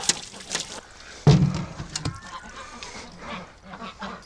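Ducks quack and honk on a very cold winter morning around their tub and buildings, giving a scatter of nasal calls with one louder burst among them over low background noise.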